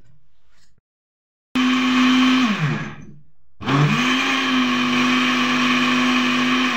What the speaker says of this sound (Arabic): انا دابا غادي ندوز نطحنها